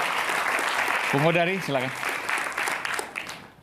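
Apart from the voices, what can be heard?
audience applause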